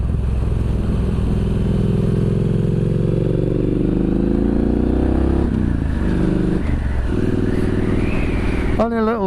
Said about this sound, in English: I'm out on my new to me Triumph Street Scrambler.